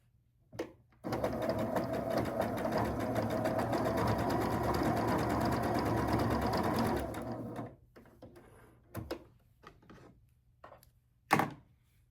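A sewing machine stitches a quilt block in one sustained, fast run of about six seconds, close and steady, followed by a few faint clicks and handling sounds.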